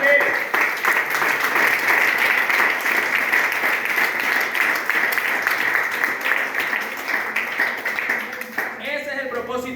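A church congregation applauds steadily during a sermon on knowing God's will, sustained close clapping that tapers off as a voice speaks at the end.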